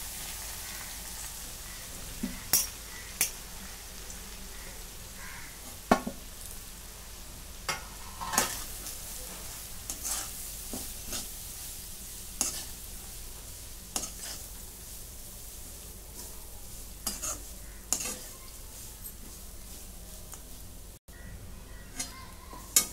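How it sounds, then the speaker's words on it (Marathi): Pieces of stale bhakri flatbread sautéed with spices in a pan, a soft continuous sizzle with a spatula scraping and stirring at irregular intervals, close by. "मी जसं 2 मिनिटं चांगलं परतून घेतलेलं आहे. असं खरपूस असं भाजून झालेलं आहे तुकडे"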